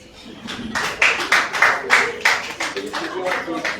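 An audience at a government press briefing claps for a congratulated colleague in a short burst of fairly close, uneven hand claps that peak and then taper off.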